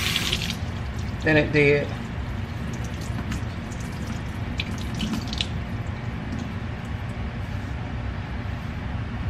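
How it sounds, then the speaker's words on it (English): Running water rinses conditioner out of hair, a steady splashing wash throughout with a voice speaking briefly over it. "I don't wanna rinse all the conditioner out"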